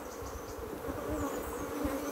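Honey bees buzz steadily at a hive during a honey flow, a soft continuous drone close by with no talking.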